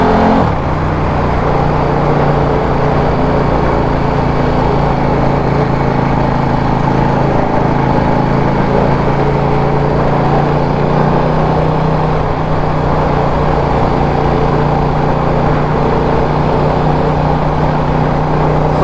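KTM motorcycle engine running steadily at close range, a continuous loud drone with a held tone and light throttle changes throughout, no voices.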